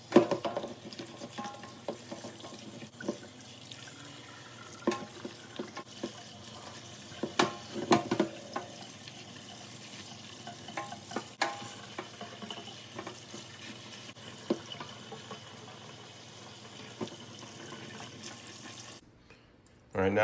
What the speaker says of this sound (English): All we got to do now is soak it, or not soak it, but rinse it and wash off the skins